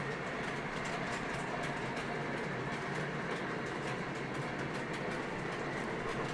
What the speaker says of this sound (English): let the trains run in circles like they're doing right now